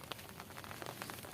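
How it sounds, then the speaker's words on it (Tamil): Rain falls outdoors as a faint, steady patter, with soft scattered drops tapping on a surface against a continuous hiss. "மழை பெய்யுது,"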